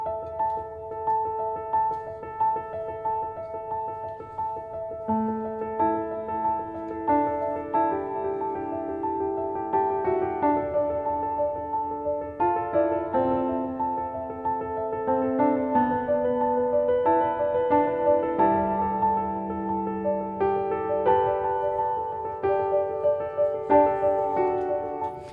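Piano melody played in 4/4 time, a steady stream of mid-range notes over held lower tones, even and moderately loud throughout with no voice.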